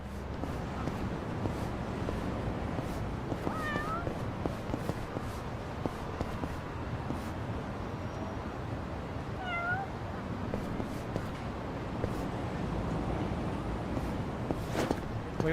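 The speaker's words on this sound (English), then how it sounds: "There's a cat." Cat in the video game Like A Dragon giving two short meows several seconds apart, faint over steady background ambience and occasional footstep-like clicks.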